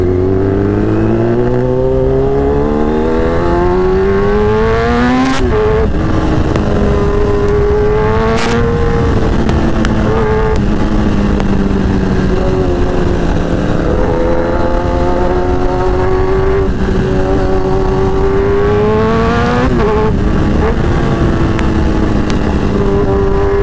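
A Kawasaki ZX10R motorcycle held in first gear revs hard, its loud engine note climbing and dropping in repeated sweeps, close and continuous with no one talking.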